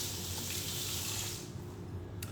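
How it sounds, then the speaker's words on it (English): Running tap water gushes steadily into a kitchen sink while hands are washed beneath it, a continuous close splashing hiss that thins out near the end. "Let me wash my hands now."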